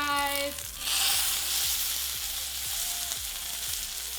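A thick A5 Japanese Wagyu ribeye steak sears in a hot pan, giving a bright, steady sizzle and crackle close up. A faint pulsing hum runs underneath, and no voices are heard.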